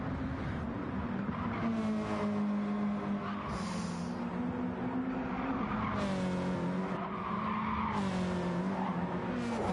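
Racing game car tyres squeal and slide in long, wavering tones over a steady engine drone, moderately loud with no one speaking.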